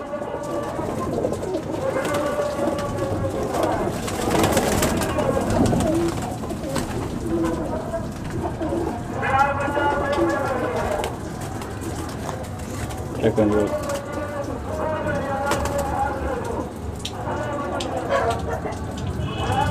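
Several pigeons from a breeder pair collection coo in repeated low, throaty rolling phrases at close range in the evening, with rain in the background and someone talking over them at times.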